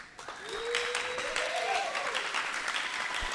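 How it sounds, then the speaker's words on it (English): At an archery competition, a women's bowhunter freestyle event, the crowd breaks into steady, moderately loud applause and clapping, mixed with a faint whistle and murmuring voices. "Let's hear it from the crowd."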